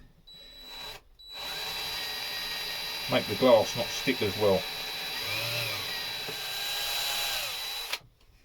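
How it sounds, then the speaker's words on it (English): A power drill bores holes through wood with a steady, moderately loud whirring drone that runs for several seconds while someone talks over it partway through. "See, I'm drilling through here."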